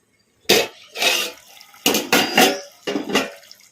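A lid comes off a cooking pot of chicken fry with several sharp metallic clatters and scrapes in short, close bursts, with quiet gaps between them.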